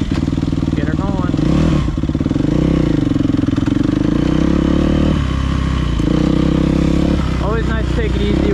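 A dirt bike's engine runs loud and close on a winter ride, idling with a throbbing rumble and rising in several sharp revs. A voice talks over the engine at points.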